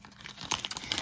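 Thin brass sheets are handled and flexed for pen nib work, giving crisp crinkling and light rustling metallic rattles up close, continuous and irregular, with no talking.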